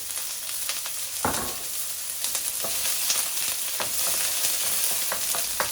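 Chopped onions sizzle and crackle steadily in a hot wok over a high flame, a dense hiss broken by sharp pops and occasional stirring scrapes.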